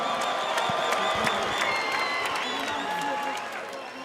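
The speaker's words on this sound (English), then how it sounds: "A big round of applause for WISEM HAMMAMI" Crowd applause and cheering fill an arena after an MMA bout won by Wisem Hammami at 971FC 2, a dense, steady wash of clapping and voices with an announcer-like voice faintly underneath.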